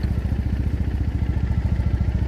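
Motorcycle exhaust idling with a steady low, pulsing throb on a street ride in Tokyo, close and fairly loud, with a regular rhythmic chug and no talk over it.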